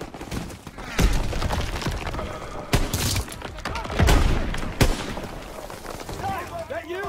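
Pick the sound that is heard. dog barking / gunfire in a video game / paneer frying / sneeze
gunfire in a video game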